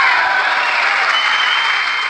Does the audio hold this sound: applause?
yes